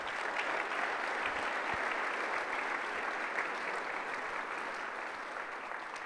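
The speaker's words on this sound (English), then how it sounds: "Let's have a round of applause for these sponsors." Audience applause at a programming conference, a steady wash of clapping from a crowd that holds at an even level for several seconds.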